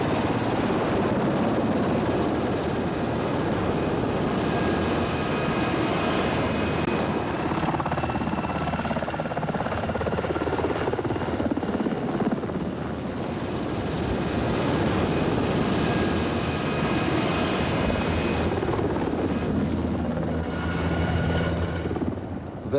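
A military helicopter flies past with a continuous, heavy rotor and engine drone, loud and steady, the pitch shifting as it moves, for over twenty seconds with no speech.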